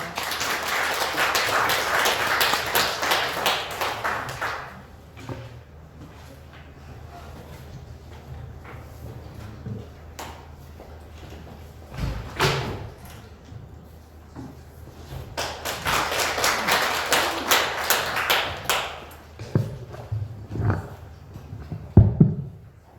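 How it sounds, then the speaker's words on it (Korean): Audience applause at a monthly meeting of the Daegu-Gyeongbuk Heungsadan civic association comes in two dense bursts of clapping, one at the start and another later, separated by a quieter stretch of faint room noise. "큰 박수 부탁드리겠습니다."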